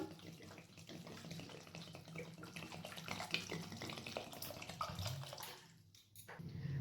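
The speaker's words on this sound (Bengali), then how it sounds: "আমি এখানে একটি প্রেসার কুকারে রাজমাটা দিচ্ছি, তার সাথে জল" Water is poured into a pressure cooker holding kidney beans for rajma, a steady close splashing and gurgling stream that runs for several seconds, then briefly drops off before picking up again.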